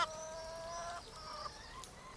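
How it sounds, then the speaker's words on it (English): Chickens cluck and squawk in a quick, chattering run, fairly close but soft, with no talking. "the chickens had already eaten half their feed and were impatiently waiting for their water"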